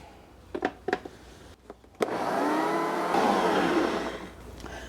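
An electric mixer working pizza dough in a bowl: a few knocks and taps, then a steady loud motor whir that holds for several seconds with slight pitch shifts before easing off.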